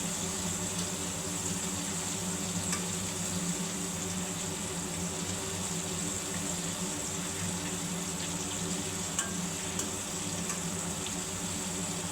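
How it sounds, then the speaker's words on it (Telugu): Chicken pieces deep frying in hot oil for homemade KFC-style chicken give a steady, dense bubbling hiss that holds evenly throughout, with no talking. "మధ్య మధ్యన ఇలా టర్న్ చేసుకుంటూ బాగా వేయించుకోవాలండి లేకపోతే లోపల ఉడకదు చికెన్"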